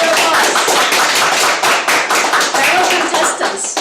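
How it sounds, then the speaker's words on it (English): Applause from a meeting audience at a Table Topics speech contest, a dense, steady wash of many hands clapping close by for the full few seconds, with no talk over it. "Please stand up and round of applause."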